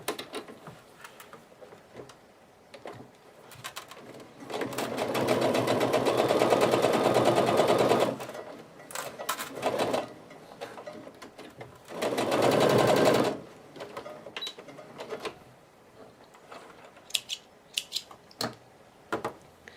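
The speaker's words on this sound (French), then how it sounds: "then take it to the sewing machine" A sewing machine stitches fabric pieces for a black and blue quilt block, running in two sustained loud bursts of steady rapid whirring, with scattered clicks and handling knocks before, between and after.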